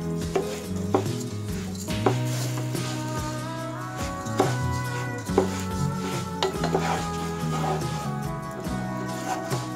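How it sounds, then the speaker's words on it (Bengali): Three poa of soaked rice grains are fried and stirred in oil in a pot for beef biryani, with rhythmic spatula scrapes and knocks against the pot over a low sizzle. "চালগুলো এখন আমি ভালোভাবে ভাজবো।"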